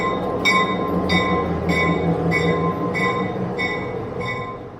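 A train rumbles past in Jim Thorpe, Pennsylvania, with a steady roar and a regular rhythmic clacking from the wheels, loud and close.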